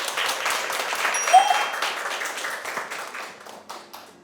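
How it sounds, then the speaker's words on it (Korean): Audience applause at a Korean clothing-swap festival as a guest is welcomed to the stage, a steady patter of many hands that gradually thins and fades, with a brief whistle-like tone partway through. "박수 함께 맞아주세요."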